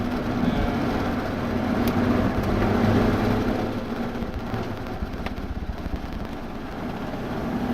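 The engine of a Volkswagen Polo Blue GT pulling hard under acceleration, a steady loud low drone heard from inside the car, with a slight swell and then easing off, and no talk over it.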